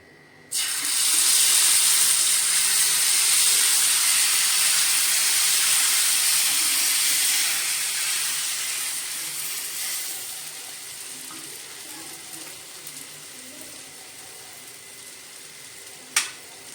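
Besan batter hits a hot oiled pan and bursts into a loud, close hiss, which fades gradually over the following seconds into a softer sizzle, ending with a brief clink.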